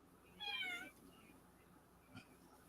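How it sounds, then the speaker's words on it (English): A cat meows once, a clear drawn-out call heard faintly in the background of a quiet room, with no talk over it. "Are you all hearing a cat?"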